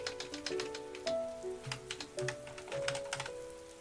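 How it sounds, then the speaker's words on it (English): Keyboard keys click in quick irregular bursts during typing at a desk, faint and close, with a soft rain-like backdrop and steady tonal music underneath. "can you guys hear my microphone clicks? Or not my microphone, my keyboard clicks."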